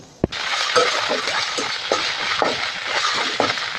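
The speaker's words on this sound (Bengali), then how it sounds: "দেবো 2টো তেজপাতা, একটা শুকনো লঙ্কা, সেটা 5 ফোড়ন দেবো" Bay leaves, a dry red chilli and five-spice seeds hit hot oil in a pan for a soybean curry, a sharp clink followed by a loud, dense, continuous sizzle and crackle close up, with no voices.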